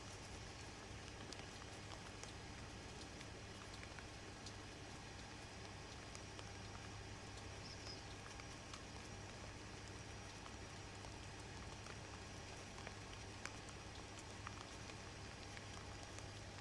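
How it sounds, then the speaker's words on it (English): Rain falling outdoors during an ice storm, a faint, steady patter with scattered tiny drip clicks over a low constant hum, no voices. "That's why we're getting rain right now."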